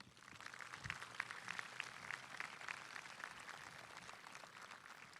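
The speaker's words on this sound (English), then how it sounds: "Let's give all those people a nice round of applause." An audience at a 2018 Jackson High School graduation ceremony claps in a steady, dense, faint wash of applause that lasts throughout without fading.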